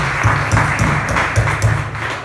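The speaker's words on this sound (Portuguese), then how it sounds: "Dê uma linda salva de palmas para Jesus" Church congregation gives a round of applause for Jesus during a Portuguese-language worship service, a loud, close, rhythmic clapping with regular beats repeating about twice per second throughout.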